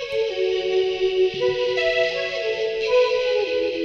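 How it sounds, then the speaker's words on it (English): Jubal flute sample from Kontakt playing a slow, breathy melody of a few sustained notes, smooth and airy with processed effects. "That flute was from Contact as well. That was the Jubal flute."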